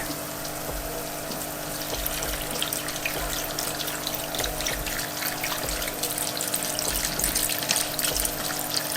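Water runs and trickles steadily into a pot of a bucket hydroponic system, a continuous splashing flow close by with a low mechanical hum underneath.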